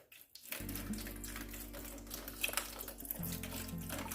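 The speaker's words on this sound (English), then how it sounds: "Let me go ahead and add our next ingredient, which is some vegetable broth." Vegetable broth pours steadily into the bottom of a roasting pan for a smoked beef pot roast, a continuous close liquid splash lasting several seconds, alone with no talking.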